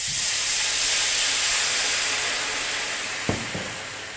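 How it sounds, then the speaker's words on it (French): White wine hitting a very hot frying pan to deglaze it, a loud, close, continuous steamy hiss that slowly fades, ending with a couple of sharp pan knocks. "Dans la poêle bien chaude, on déglace avec 20 cl de vin blanc."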